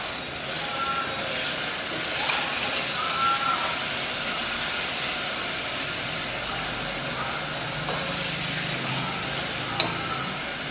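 Small shallots sauté with salt in a pan for a mutton gravy, giving a loud, continuous close-up sizzle with occasional stirring scrapes and clinks.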